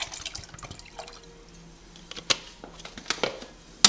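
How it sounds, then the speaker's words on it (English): Water poured and dripping into a pot of creamy corn soup while it is stirred, a steady liquid trickle under scattered sharp clinks and splashes of a utensil against the pot, close and moderately loud. "And you will have to keep adding water while you're stirring it."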